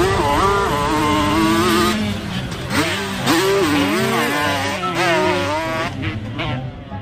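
A toy motocross motorcycle gives a continuous revving engine sound, with the pitch swooping up and down through several accelerations. It is loud and close, and a warbling tone runs alongside it until it cuts off near the end.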